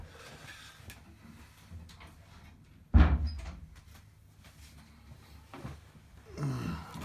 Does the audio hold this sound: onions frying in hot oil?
no